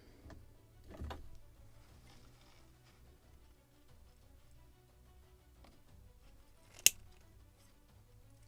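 A single sharp snip rings out as cutters bite through stiffened rigging thread on a Model Shipways model of the 1776 gunboat Philadelphia, near and crisp, in an otherwise quiet room with a soft thump earlier.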